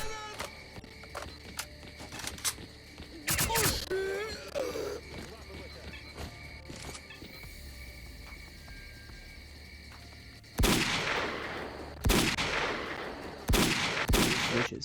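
Gunshots ring out during a gunfight with bandits and a machine gunner in the video game S.T.A.L.K.E.R.: Clear Sky, with scattered shots early and several loud, sharp bursts near the end over a steady background hum.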